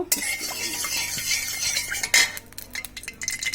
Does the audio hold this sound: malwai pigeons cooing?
no